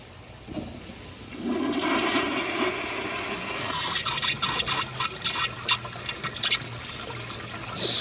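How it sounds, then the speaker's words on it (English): A Kohler Kingston wall-mount toilet with a water guard flushes at reduced water pressure: a rushing surge of water builds, then gives way to gurgling, trickling and refilling sounds, close and alone. "Anyways, this toilet works quite well. Let's weaken the pressure a little bit more."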